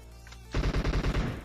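Automatic weapon fire in the mobile battle royale game PUBG Mobile: a loud, close burst of about eight rapid shots in an even rhythm, following a brief quieter click, with no voices.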